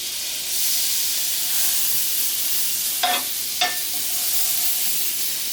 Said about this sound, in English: we gotta take some butter and place it on the griddle. Nice and hot